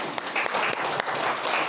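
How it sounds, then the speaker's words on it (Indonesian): Children clap together in a brisk burst of applause, dense and continuous, filling a room at a school-style gathering. "Tepuk tangan anak-anak sekalian."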